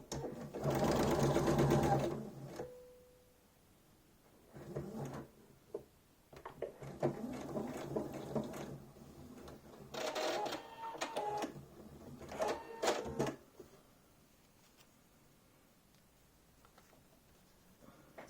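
A sewing machine stitching fabric in close, busy bursts of rapid mechanical whirring, starting with a long loud run and followed by shorter intermittent runs with pauses and handling noises between.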